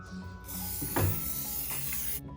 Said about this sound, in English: We're gonna spray the pan with cooking spray.